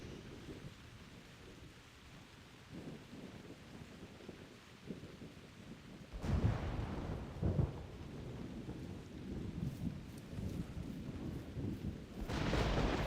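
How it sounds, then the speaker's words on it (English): Rain in the video game theHunter: Primal, a steady hiss of falling rain with deep rumbling thunder that surges in louder bursts midway and again near the end, no talking. "You can't really hear because of the rain."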